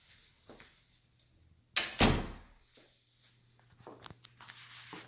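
A closet door in a rental home opens with a pair of sharp, close knocks and a brief thud, followed by fainter shuffling and footsteps, all in an otherwise quiet room.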